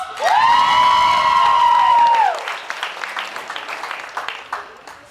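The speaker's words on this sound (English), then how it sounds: "Give me crazy applause" An audience at a live show cheers, opening with a long, loud sustained whoop that gives way to scattered clapping and crowd noise.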